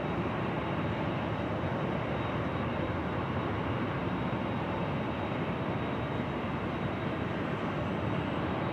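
At LAX an airliner rolls for takeoff on runway 24 left, a loud, steady, broadband jet-engine roar that holds constant throughout with no pauses.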